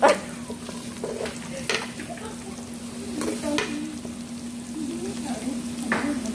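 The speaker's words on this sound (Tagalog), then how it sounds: "Sibuyas at saka bawang. Paghahaluin." Onion and garlic stir-fried in a pan for chaofan, a continuous close sizzle with spatula scrapes and clinks against the pan and a steady low hum underneath, no talk.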